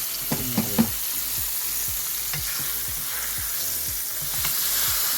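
Smothered pork chops sizzle steadily in a hot pan over high heat, a continuous loud frying hiss with a few sharp clatters near the start and scattered pops and spatters throughout.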